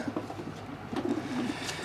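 Soft, low pigeon cooing repeats in short throaty phrases against a steady background hum, fairly close.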